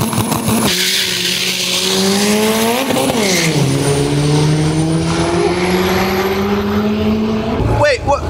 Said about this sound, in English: You're about to drag race my truck.